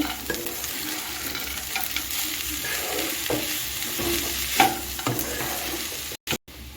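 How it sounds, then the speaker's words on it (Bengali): Sabudana khichuri with peanuts and coriander being stirred in a pan: a constant soft sizzle under scraping spoon strokes, close up, with a few clinks and a brief cutout near the end. "আমি এক মিনিট আবার নেড়ে চেড়ে রান্না করে নিচ্ছি"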